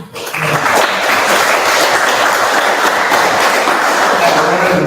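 Audience applause at a Meet the Candidates event for Cowper, dense sustained clapping rising quickly after a brief pause and holding loud and close through the rest of the clip, with some voices mixed in.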